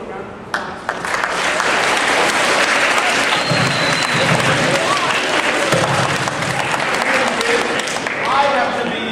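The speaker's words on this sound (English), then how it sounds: "let's give a round of applause" Sustained applause from a local community audience gathered for a golf and NFL players event, loud and dense throughout, with talk and cheers rising faintly within it.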